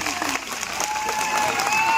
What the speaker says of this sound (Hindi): मैं चाहता हूं कि जोरदार ताली बजा करके माननीय नेताजी का आप लोग स्वागत करें।